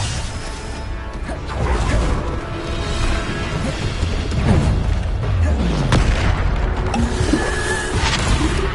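Bombarda exploding spell effect in a Hogwarts game: a burst of booming blasts and whooshing crashes, loud and close, with rumbling debris following through the stretch.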